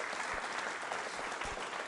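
Audience at a school quiz show clapping in honour of guests; a full, close burst of many hands, loud and continuous with no voices over it.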